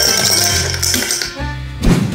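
Ice cubes clinking into a glass for a chaat masala drink, a short run of bright clinks and knocks, close and fairly loud, with a heavier clatter at the end.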